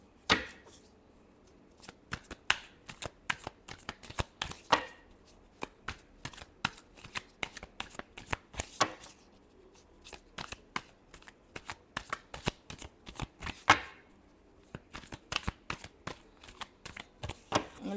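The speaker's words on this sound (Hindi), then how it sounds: "last shuffle" Tarot cards being shuffled by hand in a long run of crisp, rapid riffles and taps, loud and close, with short pauses between bursts and no talking.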